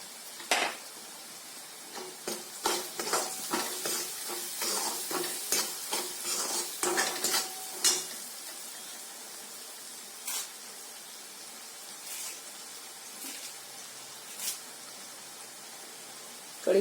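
Onion with green chilies and a spoonful of salt frying in a pan, a steady sizzle under repeated scraping stirs for the first half, then the frying settling to a quieter hiss with occasional clinks.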